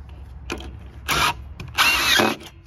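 A power drill drives Camo hidden-fastener screws into a deck board during first-board installation, two loud whirring bursts of about a quarter second and half a second with short ticks before and between, close by with no talk.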